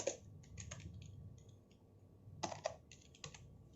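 Keystrokes on a computer keyboard as a school name is entered into a QBasic program, a few scattered key clicks with short pauses, close and fairly quiet over a low background hum.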